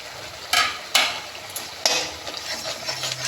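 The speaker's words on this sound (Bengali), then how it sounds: "এটা দিয়ে আবার একটুখানি কষাতে হবে" A spatula stirs ground spices into onion paste for a prawn curry in a pan, making a few short, close scraping bursts with a faint sizzle between them, with no talking.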